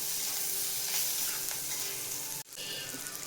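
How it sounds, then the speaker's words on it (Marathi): Fresh coriander frying in hot oil for a Marathi masoor dal and onion dish gives a dense, steady sizzle, close and loud. A short break near the end is followed by more stirring. "आता तेलात चांगली कोथिंबीर भाजून घ्यायची आहे।"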